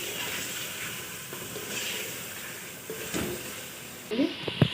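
Potato and meat curry with bones frying in a pot, a steady low sizzle and hiss throughout, with a few brief stirring clatters near the end.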